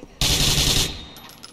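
A single loud burst of automatic gunfire in Grand Theft Auto IV: The Lost and Damned, sharp and close, lasting under a second before a brief fading tail.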